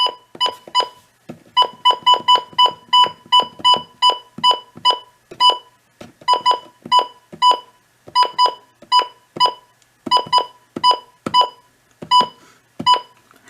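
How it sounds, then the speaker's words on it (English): A Midland WR-100 weather radio gives rapid valid-button beeps in quick bursts, short high tones repeating in clusters with brief gaps between groups, clear and close. "valid bun beeps."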